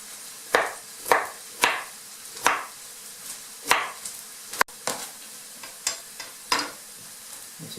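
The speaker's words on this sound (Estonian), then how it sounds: "Kohe peenestan ka porgandi." A knife chops carrot on a cutting board, giving about a dozen crisp, close thuds at an uneven pace, with a faint sizzle from a pan behind them.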